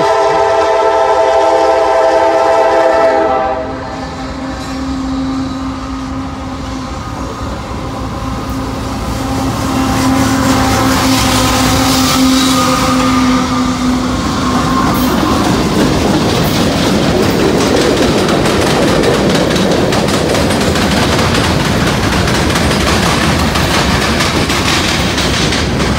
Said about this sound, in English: This is going to be the last train of the night